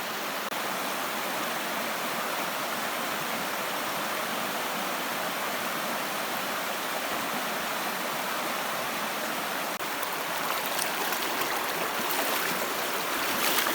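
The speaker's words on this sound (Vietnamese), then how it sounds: "Các bạn có thể thấy được cái dòng suối ở đây chảy rất là đẹp, suối đá" A clear rocky stream in the Sao La special-use forest of Quảng Nam, Vietnam, rushes over stones in a steady, loud, close wash of water that never lets up.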